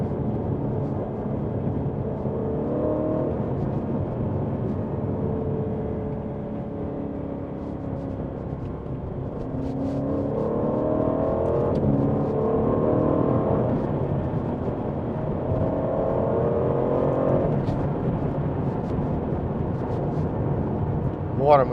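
A 2022 Aston Martin Vantage V8 accelerates hard, its engine roaring steadily and building in intensity, with a rising pitch partway through and a sharp pop near the end.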